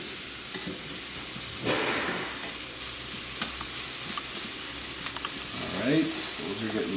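Onions fry in a pan with pepper added, a continuous close sizzle with bursts of hiss and occasional stirring scrapes and clinks, a voice murmuring faintly in the background.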